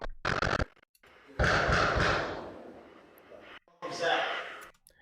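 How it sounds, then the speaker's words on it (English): Gunfire at a live-fire event in Martin Hills, aimed at a nearby building: three loud, rough bursts of shots, separated by short quieter gaps, with people talking around them. "they were right across the street or in the field at the building, firing at the building"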